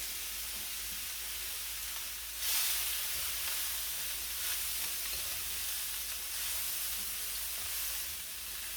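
Cabbage and sausage fried rice sizzles over high heat, a steady hiss from the pan with a brief louder burst as it is stirred or tossed.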